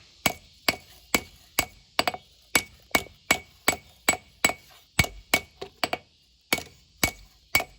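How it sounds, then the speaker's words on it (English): Sharp metallic hammer blows ring out one after another in a steady rhythm, close and distinct, with a slight clinking ring on each strike, as a hammer knocks a saw blade straight. "Then I'll take my hammer and knock her back down."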